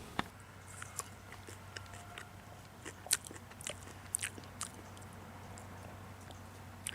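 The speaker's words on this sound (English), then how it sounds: "I bet you can even eat the leaves and they taste just fine." Raw leaves from a garden-grown kohlrabi plant being chewed close up, a quiet run of irregular crisp bites and crunches over faint background hum.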